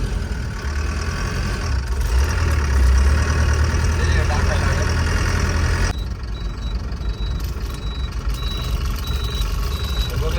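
A diesel vehicle's engine runs steadily while driving, a close, constant low hum with a faint tonal whine in the second half and some voices in the background.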